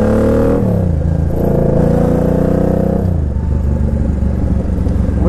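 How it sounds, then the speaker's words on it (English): An entry-level Japanese motorcycle under way, its engine droning loudly with pitch shifts as it changes speed, with a light rattle from some loose part mixed into the steady engine and wind noise. "What is that rattle?"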